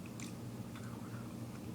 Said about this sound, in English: I had to bite and chew and chew.